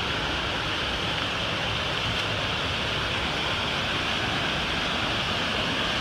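Hitchcock Creek waterfall pouring near old mill ruins: a loud, continuous broadband roar of rushing water, steady and close, with no pauses or voices.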